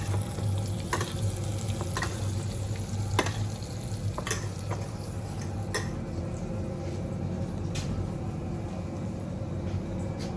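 Pork searing in a hot pan gives a steady close sizzle and frying hiss, broken by a few sharp scrapes and taps as it is turned, with no voices.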